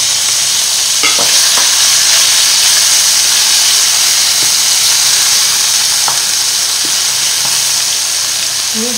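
Chopped onion sizzles loudly in a pan after veal paupiettes are removed and the heat is lowered, a steady dense hiss throughout with a few faint clinks.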